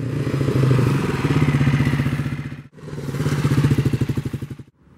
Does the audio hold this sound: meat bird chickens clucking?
no